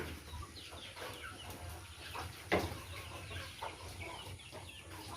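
Chickens cluck and chatter softly in the background, with a sharper squawk near the middle over a faint, steady hum.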